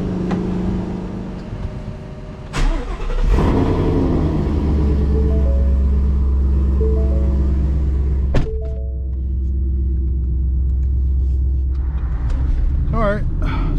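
A Gen Mustang fitted with Kooks headers and a Corsa Xtreme exhaust pulls away from a car wash, its loud, steady low exhaust rumble droning close by while someone talks over it throughout.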